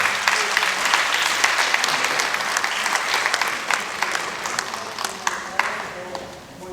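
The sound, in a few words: audience applause at a school board meeting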